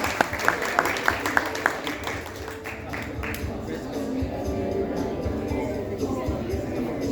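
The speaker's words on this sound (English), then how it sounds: "can we give one more round of applause to our speakers today?" Audience at a book launch clapping for the speakers, beginning with a few distinct single claps that swell into steady, dense applause from a crowd filling the room.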